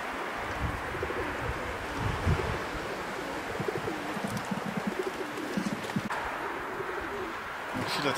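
Pigeons cooing in a loft during winter racing-pigeon arrivals, low soft repeated coos against steady wind-like outdoor noise, with faint background sounds.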